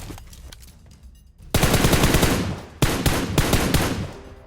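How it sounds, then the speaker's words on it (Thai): Automatic gunfire in PUBG Mobile on the Livik map: rapid bursts of loud machine-gun shots, fainter firing first, then two close, heavy sustained bursts. "เมื่อกี้เหมือนจะมีเสียงปืนมานะ จากทางซ้ายอะ่ะ"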